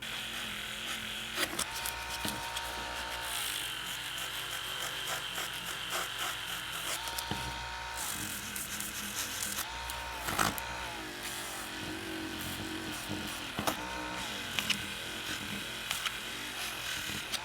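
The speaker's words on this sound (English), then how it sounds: "let's get our Dremel started here" A Dremel rotary tool runs on a Corgi Toys Ferrari Daytona 1/32 die-cast model during restoration, giving a steady, fairly close high motor whine that dips and surges in pitch several times, with no talking.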